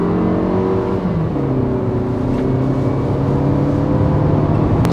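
A 2020 SsangYong Tivoli Air with a 1.5-litre turbo petrol engine revs up steadily and loudly, its pitch climbing through the gears with a smooth, continuous drone close by.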